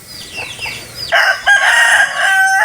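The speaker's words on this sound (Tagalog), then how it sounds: "So yung mga alaga naming manok." Farmyard chickens cluck softly at close range, then a rooster lets out a loud crow that fills the second half, with more clucking around it.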